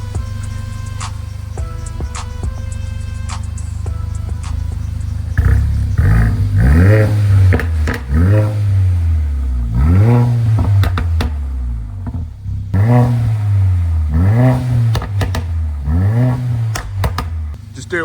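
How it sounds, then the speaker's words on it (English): Engine of a wrecked Mercedes-AMG A45 revved repeatedly, each blip rising in pitch and falling away, close and loud in a steady series of surges with a faint voice at the start. "Go on, give it a rev, lad."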